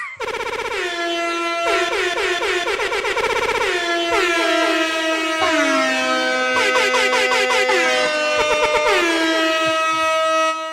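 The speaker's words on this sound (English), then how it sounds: "I'm going all the way to my air horn page." Blaring air horn sound effect fired from a soundboard, repeated in several loud blasts with descending pitch slides and stuttering pulses, filling the whole stretch with no talking.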